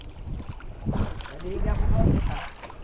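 Strong monsoon wind gusts buffet the microphone out on the water from a boat, swelling and easing in rough bursts, with a voice faintly mixed in.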